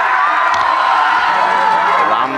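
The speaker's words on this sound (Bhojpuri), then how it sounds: "एगो जोरदार ताली दोनों भैया खातिर" A rally crowd claps and cheers for two guests in a steady, dense wash of applause and shouting that fills the whole stretch, loud and close.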